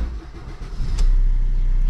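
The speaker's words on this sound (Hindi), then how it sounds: "स्टार्ट होने में कोई प्रॉब्लम नहीं है।" A car engine cranks and catches in a repair workshop, a brief starter whirr followed by a sudden jump to a steady, loud idle rumble up close.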